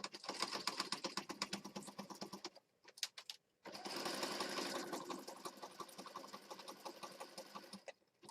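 Sewing machine stitching through fabric for a junk journal, a steady fast mechanical whirring with rapid needle ticks, briefly pausing near the middle before running again, close and fairly quiet.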